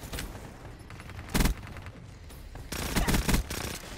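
Gunfire in Black Ops 3 rattles in rapid automatic bursts, with one sharp burst early and a longer volley later, loud and close.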